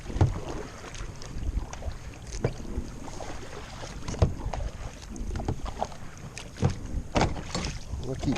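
An Old Town Sportsman 106 boat is paddled across open water, with soft splashes and knocks from the paddle under steady wind noise on the microphone and a few faint voice sounds.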